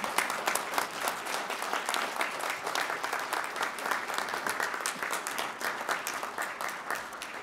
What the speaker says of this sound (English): please let's have one last round of applause for the newest members of Phi Beta Kappa